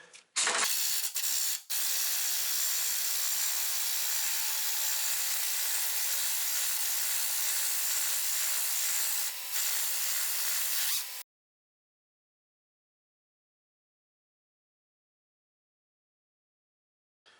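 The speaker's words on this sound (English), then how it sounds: "I'll use a 16 millimeter on my 1/2 inch impact to run out the bolt" A 1/2-inch impact wrench with a 16 mm socket runs out a rear strut bolt on a 2004 Ford Explorer 4x4, a loud harsh continuous burst lasting about eleven seconds before cutting off abruptly into silence.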